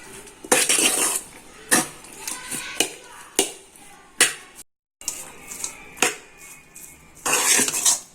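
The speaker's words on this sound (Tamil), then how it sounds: "இப்போ சாதத்தோட சேர்த்து மிக்ஸ் பண்ண போகிறோம்." A spoon scrapes and clinks against a pot while cooked jeera samba rice is stirred into mint masala, irregular metallic knocks and scrapes close by, with a brief silent gap midway and no speech.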